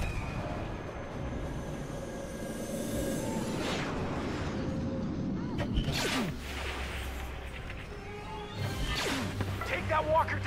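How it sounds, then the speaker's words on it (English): Y-Wing bombers make an attack run in the Star Wars Battlefront video game, with whooshing fly-bys and rumbling blasts over a constant roar of battle and muffled voices. "Y-Wing bombers are setting up for their attack run."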